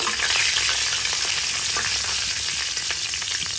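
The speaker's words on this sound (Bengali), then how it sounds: "এখন আমি এই তেলের মধ্যে কয়েকটা শুকনো মরিচ খুব ভালোভাবে ভেজে নেব" Dried red chilies frying in oil on low heat, a steady close hiss of bubbling oil with faint crackles throughout, no voices.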